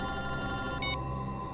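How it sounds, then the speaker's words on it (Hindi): A telephone bell rings steadily, a continuous bright trilling tone that stops abruptly partway through, leaving a faint hum behind. "एसीपी साहब का फोन?"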